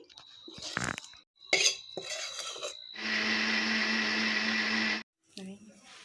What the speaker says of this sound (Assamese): মই এই মছলাখিনি মিক্সিৰ জাৰত পিচি ল'ম।